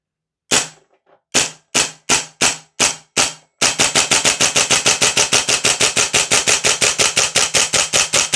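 A Vorsk VMP-2 gas blowback airsoft rifle fires six separate loud, sharp cracks with brief pauses, then breaks into a long rapid burst of evenly spaced shots that runs to the end, close and alone.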